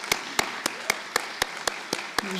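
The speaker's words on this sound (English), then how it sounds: "I'm going to ask a big round of applause for João Carvalhosa" Steady, evenly spaced claps, about nine sharp hits in quick rhythm, ring out at a conference on social housing, sounding like one or a few people clapping close by rather than a full crowd.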